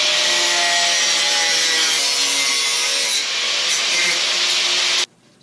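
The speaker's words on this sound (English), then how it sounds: "So I've got my stovepipe cut." Metal stovepipe for a small woodstove being cut, a loud continuous rasping, grinding cut close by that runs for about five seconds and then stops abruptly.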